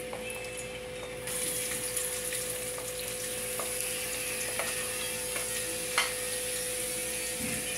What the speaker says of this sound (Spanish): Vamos a echar el salami a sofreír primero.